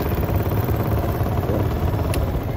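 A motorcycle engine idles steadily at close range, a low continuous rumble with faint mechanical clatter throughout, before it is switched off on a city street in Calamba, Laguna.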